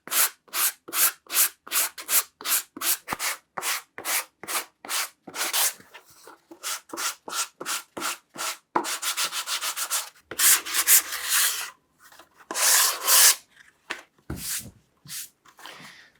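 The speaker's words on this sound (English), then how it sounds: "I'm going to sand the sides a bit" Rhythmic back-and-forth strokes of sandpaper rubbing the sides of a wooden box, a steady run of close, loud passes that later turn into longer, uneven scrubbing with short pauses.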